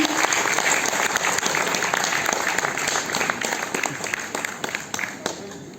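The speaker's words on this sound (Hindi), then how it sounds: "जोरदार तालियों से स्वागत करिए हमारे माननीय मंत्री जी।" Audience applause greeting a minister at a Ministry of MSME award ceremony, a dense, steady wash of many hands clapping that holds loud throughout, easing slightly toward the end.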